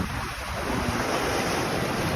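Surf washing steadily onto Ya Nui Beach in Phuket, Thailand, a continuous broad wash of waves with wind noise buffeting the microphone, no voices.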